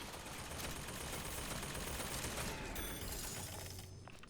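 Turret fire in a video game: a continuous, dense stream of rapid shots that stays steady and fairly loud throughout, with a faint metallic ringing near the end.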